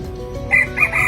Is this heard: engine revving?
no